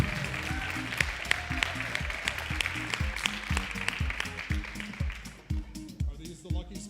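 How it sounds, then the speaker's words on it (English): An audience applauds at a school district reading competition, a broad wash of clapping over a rhythmic pulsing beat that fades toward the end. "Let's give a big round of applause to the RH Sports Stars and Cal the Dogs."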